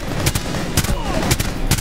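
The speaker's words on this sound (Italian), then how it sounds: "Occhio perché stanno sparando" Gunfire in the tactical shooter Rainbow Six Siege: several sharp shots spaced about half a second apart, fairly close and loud over a busy background of game noise.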